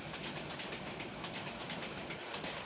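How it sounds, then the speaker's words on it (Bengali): The Parjatak Express, a non-stop train, rushes past Bhairab railway junction at speed, a loud continuous roar of wheels and rumbling carriages with faint rhythmic clatter. "খুবই দ্রুত গতিতে ছুটে চলল পর্যটক এক্সপ্রেস"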